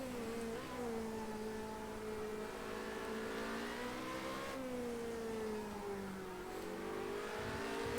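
Formula Renault race cars in Project Cars 2 roar continuously up close, engines rising and falling through gear shifts, with other cars whining alongside in a tight racing pack.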